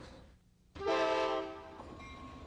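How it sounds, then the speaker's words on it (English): An ICE high-speed train pulling out of Portland, Maine, on its 1993 Amtrak North American tour sounds a loud, sustained horn chord that cuts in after a quiet moment, then fades to a lower rumble with a faint lingering tone. "As the ICE train slowly pulls out of Portland and heads back to Washington, D.C."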